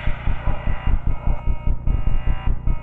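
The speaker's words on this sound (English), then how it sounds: "It's really interesting how the alarm lights activate when you turn on the alarm for Derek in Class 40." A loud, harsh electronic alarm buzzer in the video game Five Nights At Smudgers 2 Remastered pulses rapidly and repeatedly, blaring steadily throughout.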